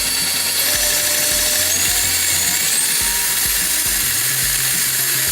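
An electric mixer beats milk, cream, powdered sugar and vanilla on high for a tres leches cake topping, giving a loud, continuous high-pitched motor whir with a faint rattle and no pauses.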